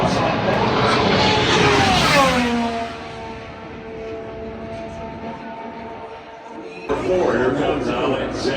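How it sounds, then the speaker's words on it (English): IndyCar race car accelerating during Indy 500 qualifying at Indianapolis, with a loud engine screech sweeping down in pitch as it passes close, fading away, then a new roar rising near the end. "Here comes Alexander Rossi on the throttle"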